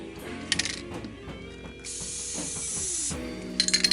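An aerosol can hisses in a sustained burst inside a Roland KC-300 keyboard amp, surrounded by clicking and rattling mechanical sounds before and after the spray.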